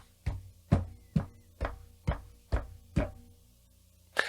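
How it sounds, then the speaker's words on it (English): Seven evenly spaced knocks on a table test the shock mount of a Fifine K688 dynamic microphone, each a dull thud with a short decay, followed by a sharper tap at the end in an otherwise quiet room. "test the shock mount that is included with the K688 by knocking on the table"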